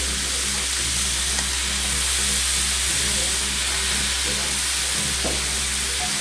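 Kielbasa, peppers and onion fry and brown in a very hot pan, giving a loud, steady sizzling hiss with a low hum underneath, close up and continuous.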